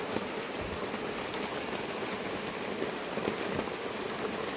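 Steady rain pours down outdoors, a dense even patter lasting throughout at moderate level, with no voices heard.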